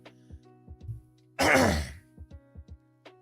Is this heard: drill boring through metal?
no